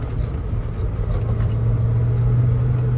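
A 1984 BMW 633CSi with a 5-speed manual gives a steady, low engine drone and road rumble heard from inside the cabin, with no distinct rev change standing out.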